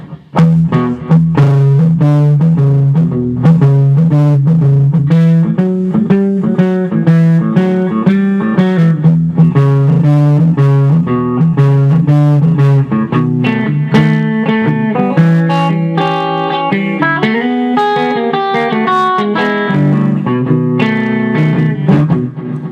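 An electric guitar plays a muted, rhythmic shuffle through a FlyRig 5 pedal with delay, the palm-muted notes chugging steadily and loud, with echoing repeats and no talking.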